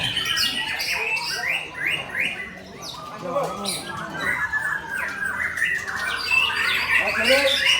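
Competition songbirds at a bird contest training session in Magetan, Indonesia, squawking and chirping busily and continuously, several birds overlapping at close range.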